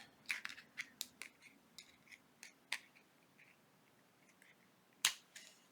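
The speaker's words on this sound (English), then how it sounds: "then we're going to cut that close to the knot" Small scissors snipping thread close to a knot, a series of faint, crisp, close clicks scattered irregularly, with one sharper louder snip near the end.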